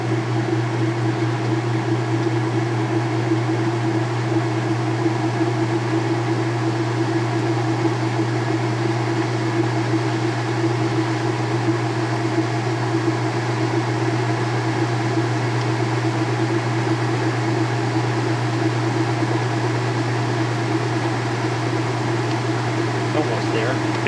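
Washing machine in a fast, steady spin cycle, a loud continuous hum and whir with a constant low drone lasting throughout, fairly smooth with little shaking.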